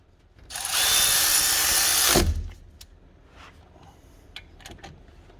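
A power drill drives in the brake caliper screws on a rear brake of an Acura RL, one loud whirring burst lasting under two seconds that ends with a thud, followed by faint clinks and handling noises.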